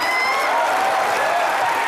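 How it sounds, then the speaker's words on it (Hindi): Studio audience at a comedy show clapping loudly and continuously, a dense, even burst of applause with a faint crowd murmur and no talk. "जोरदार तालियां हो जाए"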